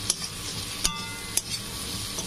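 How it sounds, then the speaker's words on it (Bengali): Salt, turmeric and chilli powder are stir-fried in a pan for a fish curry, with a constant close sizzle broken by three sharp spatula scrapes at roughly even intervals and no speech. "এটা ভালো করে কষে নেব।"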